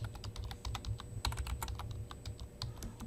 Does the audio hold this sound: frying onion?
no